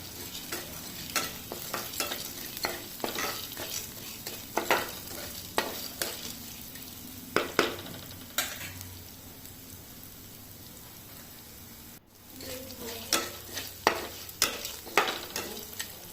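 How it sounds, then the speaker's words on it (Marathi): Vadas tossed in a pan with fried onion, turmeric and salt, giving a continuous soft sizzle broken by frequent clacking scrapes of a spatula, with a brief pause midway before stirring resumes. "इथे भाजून झालेला आहे कांदा त्यामध्ये आपण वडे घालूयात वडे घालून व्यवस्थित घालून घेऊयात"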